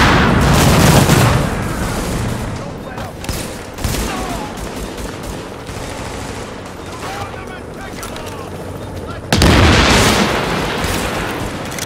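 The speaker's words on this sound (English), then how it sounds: "Grenade, grenade, grenade." Loud, booming grenade blasts in The Division, one at the start and another near the end, each decaying over a few seconds, with gunfire and talking voices in between.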